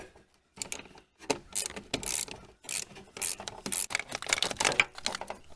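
A wrench loosens the 10 mm battery terminal nuts on a 2007 Pontiac Solstice, giving close, rapid ratcheting clicks in several bursts with short pauses and a faint metallic jangle, without talking.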